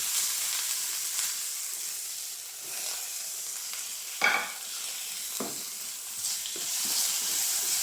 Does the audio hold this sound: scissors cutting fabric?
no